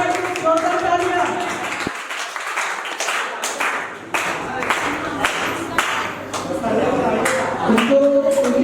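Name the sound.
audience clapping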